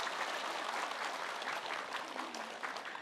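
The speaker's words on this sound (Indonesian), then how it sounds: "Boleh ibu tepuk tangan deh." Steady applause from a crowd, continuous broadband clapping for a few seconds with no pauses.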